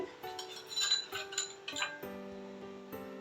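A spoon stirs gram flour batter with water in a bowl for motichoor laddu, giving light, irregular tinkling clinks and soft scrapes close by, with no voices.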